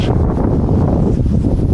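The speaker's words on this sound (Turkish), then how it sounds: "rüzgar geliyor" Steady, rumbling wind on a seaside shore buffeting the microphone, a continuous low roar with no breaks and no voices.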